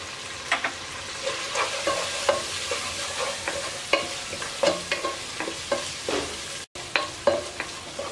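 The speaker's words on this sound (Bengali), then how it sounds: "মাংসটা হালকা একটু ভেজে নেব" Meat is stirred and fried with chili and turmeric powder for a chickpea biryani, rhythmic spatula scrapes and knocks landing about twice a second over a continuous close sizzle.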